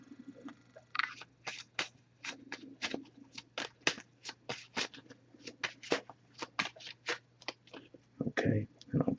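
Rapid, repeated crisp riffles and flicks of an oracle card deck being shuffled up close, in quick bursts, with a faint low hum and soft murmuring underneath.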